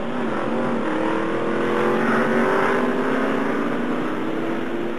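A NASCAR race car roars down the straightaway at the 2002 Ford 400, a loud sustained engine drone with rising pitch, steady and unbroken for several seconds amid distant track ambience.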